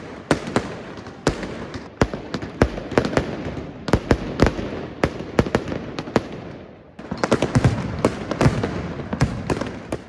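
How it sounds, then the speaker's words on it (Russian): Fireworks at a New Year celebration at the Commodore Elite 5* hotel in Turkey, a dense run of sharp nearby bangs and cracks over a rumbling backdrop, briefly thinning before another loud burst. "Еще одна причина встретить Новый год в турецком отеле – это салюты."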